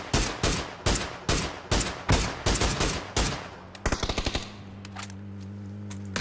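Video game gunfire: a run of loud, evenly spaced single shots, then a fast burst of automatic fire that trails into a lingering hum.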